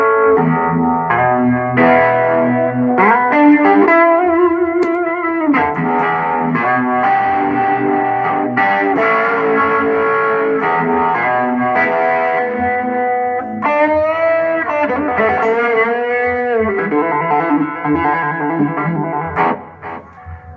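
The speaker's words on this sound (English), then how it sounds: "if I go over here, I have it set up so it's got some distortion." An electric guitar plays through a pedalboard set for distortion with delay, sustained overdriven chords and riffs ringing out loud and alone for about twenty seconds before cutting off.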